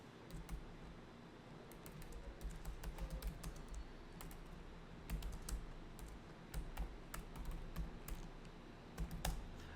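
Someone is typing on a computer keyboard at a quiet desk, with irregular bursts of soft key clicks and short pauses, faint and close.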